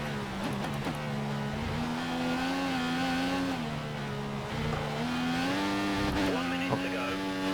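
A Formula One car in the F1 2014 video game held on the rev limiter, its engine a steady high-pitched droning whine bouncing at the limiter with slight pitch dips, loud and continuous while people talk over it.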